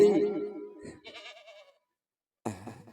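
A voice imitates a goat bleating during a devotional storytelling performance, giving a short wavering nasal cry between bursts of narration.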